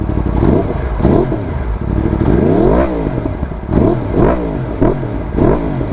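A Yamaha R1M motorcycle with carbon fiber winglets revs up repeatedly in a driveway, its engine loud and close, climbing in rapid bursts and falling back about once a second over a steady idle, with no talk.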